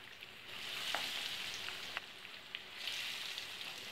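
Supplì, Roman rice balls with meat, fry in hot oil with a continuous soft sizzle and occasional sharp pops and crackles, close and fairly quiet.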